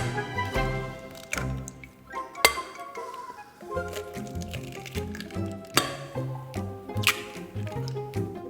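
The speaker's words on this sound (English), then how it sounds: "Crack 4 eggs into the bowl." Eggs cracked into a bowl make several sharp cracks and clinks against the rim, with wet squishy drops between them and short pauses between each egg, close and clear with no voices.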